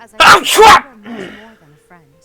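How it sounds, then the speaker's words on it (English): A person sneezes twice in rapid succession, loud and close, during Fire Emblem: Three Houses gameplay, followed by quieter spoken dialogue. "That was a sneeze."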